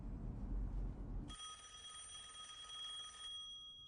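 A telephone bell rings in one sustained electronic trill lasting about two seconds, clear and fairly close, after a short burst of low rumbling noise.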